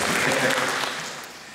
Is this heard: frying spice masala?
no